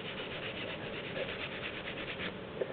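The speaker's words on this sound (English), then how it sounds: "You can use a brass brush quite safely and just apply a lot of strength to that, and you should be able to rub off that gray goo" A brass brush scrubs hard at grey gasket goo on a BSA B50 engine case, making steady rapid back-and-forth rasping strokes, close and continuous with no talking.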